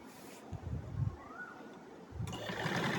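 A sewing machine stitches the side seam of a kameez in two short, close runs of rapid mechanical whirring, with a softer hum between them.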